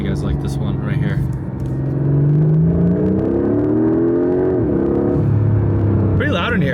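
Cabin sound of a Porsche 991.1 GT3 RS with a 3.6-liter engine and iPE exhaust, a loud steady engine drone rising and falling in pitch as it revs, with voices talking over it near the end.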